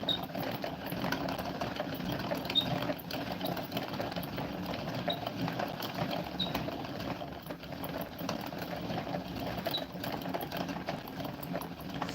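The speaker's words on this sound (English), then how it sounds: "Get a yarn winder, she said, right?" A yarn winder winds yarn with a steady, continuous mechanical whir and faint rhythmic clicking, running alone at moderate volume throughout.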